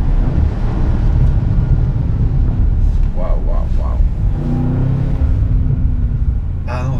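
A loud, deep exhaust rumble from a 2019 Bentley Continental GTC V8 convertible runs the whole time, with a voice talking briefly over it.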